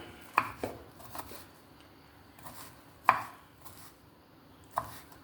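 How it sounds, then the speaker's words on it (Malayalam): A knife chopping food into small pieces on a board while cooking, a few sharp, separate chops spaced unevenly over about five seconds, close and clear with no talking. "ചെറിയ ചെറിയ കഷ്ണങ്ങളാക്കിയിട്ട് കട്ട് ചെയ്യുക"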